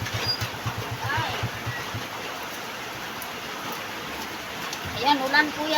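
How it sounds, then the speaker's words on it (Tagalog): Rain begins falling on a hot day, a broad steady hiss that holds throughout, with low rumbling at the start and a voice talking near the end. "Ayan, ulan."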